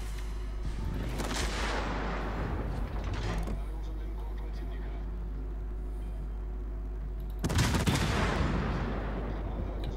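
Ship guns firing in World of Warships, heavy booming salvos with long rumbling tails, one early and another loud burst near the end, over a constant low drone while someone talks.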